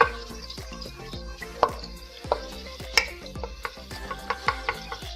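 Green cardamom seeds frying in ghee in a pan, with repeated sharp taps and scrapes of a stirring utensil over a soft, steady sizzle, fairly close and fairly quiet, no talking.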